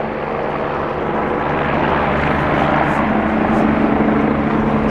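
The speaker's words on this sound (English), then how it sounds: "It looks like a military helicopter." A military helicopter's steady, throbbing rotor drone fills the whole stretch, loud and close overhead, growing slightly stronger toward the end.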